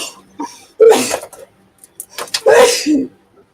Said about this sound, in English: took it off of mute mid sneeze